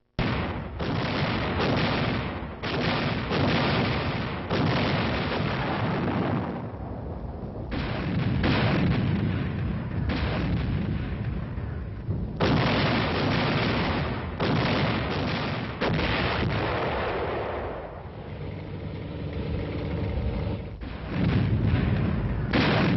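Field artillery of the US Army fires in repeated heavy blasts, loud booms and rumbling bursts arriving one after another with brief gaps, a sustained barrage over roughly twenty seconds.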